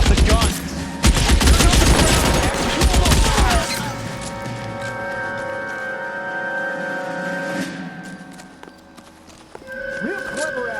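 Video game gunfight in L.A. Noire: bursts of rapid gunfire and machine-gun fire crackle loudly for the first few seconds, then fade into a sustained tonal hum with a few sharp distant shots near the end.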